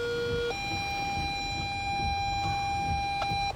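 A dispatch alert tone for a fire department, arriving during tornado damage response, holds steady and loud for several seconds, stepping in pitch near the start and briefly again near the end, with no talk over it.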